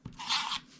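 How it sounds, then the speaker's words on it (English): A tape runner rolls adhesive onto a paper recipe card, one short close scratchy zip lasting under a second. "So now I'm going to take my tape runner"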